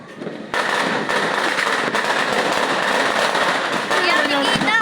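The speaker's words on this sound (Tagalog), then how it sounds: "The fireworks." New Year fireworks and firecrackers crackle in a dense, continuous barrage after a brief quieter start, with rapid popping and occasional thuds at moderate distance, and faint voices underneath.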